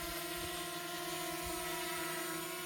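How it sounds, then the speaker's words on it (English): A DJI Mini 2 SE drone hovers in flight at Whispering Sands, Zambia, its propellers giving a steady high-pitched buzzing whine with stable tonal hum, close and continuous without pauses. "And the drone is flying."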